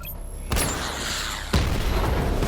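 Missile barrage explosions in the video game Batman: Arkham Knight: two heavy booming blasts land about a second apart, each with a sharp onset that trails into a dense rumbling wash, loud and close.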